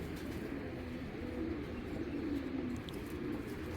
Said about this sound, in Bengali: এই যে একটা সিলভার মাদি, মাদি কবুতর